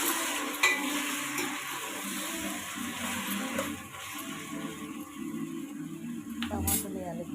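Dalcha mixture fries in a pan as turmeric is stirred through it, giving a steady sizzle with scraping stirs and a brief clink of utensils near the end.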